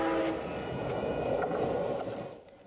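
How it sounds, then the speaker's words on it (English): A Metro Green Line light-rail train rumbles past outdoors near concrete towers, a loud steady roar with faint rail squeal that holds for a couple of seconds, then fades away. "The Metro Green Line train frequently runs by the towers also."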